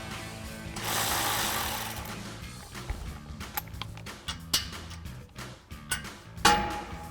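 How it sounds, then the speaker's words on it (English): A 13mm socket ratchet tightens the running board bolts on a 2015-2023 Ford F-150, heard as a string of close clicking bursts after an opening stretch of broadband noise. "we'll take our 13mm socket and tighten these down"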